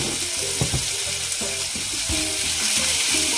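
Capsicum thoran fries loudly in a pan, a constant hissing sizzle broken by rhythmic scraping strokes of a spoon stirring the vegetables, close and continuous.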